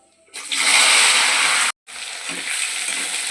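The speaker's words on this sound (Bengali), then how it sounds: "কেটে রাখা আলু আর পেঁয়াজ একসাথে দিয়ে দেবো কড়ার মধ্যে।" Cut potatoes and onions hit hot oil with whole spices in a kadai, a loud sustained sizzle that breaks off abruptly, then resumes softer and steadier, with no voices.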